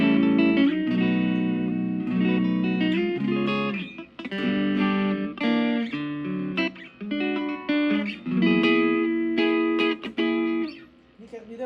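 Bright, clear electric guitar notes and chords from a Kazuki relic Strat on the middle pickup, played in short phrases, ringing with a clean, glassy tone and brief pauses between.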